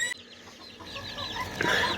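Serama and ispenç chickens cluck inside a coop, a few short, close clucks and squawks that grow louder toward the end, with faint rustling between calls.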